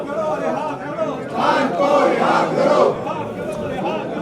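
Opposition lawmakers in parliament chanting slogans in protest, a loud crowd of voices rising and falling together in rhythmic shouts, steady and close throughout.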